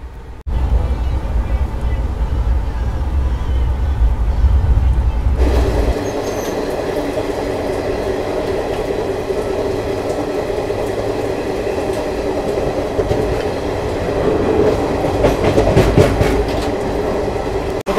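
A Garib Rath Express runs at speed on its nonstop stretch out of Varanasi Junction toward Prayagraj, producing a loud, continuous rumble with wheel clatter that grows fuller and brighter after a few seconds.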